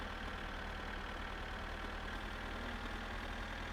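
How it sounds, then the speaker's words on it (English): Kekmet tractor engine in My Summer Car chugging steadily, a faint low rumbling drone held evenly throughout without talk. "Come on, Kekmet, you can do it. My faithful tractor never lets me down."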